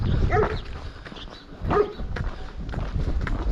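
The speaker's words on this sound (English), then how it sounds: "That dog over there is like a ventriloquist, look. He's barking, but his mouth isn't moving" A dog barks in a village along the Camino Frances between Ponferrada and Sarria, two or three sharp barks spaced over a few seconds, mid-distance and clear against quiet outdoor background.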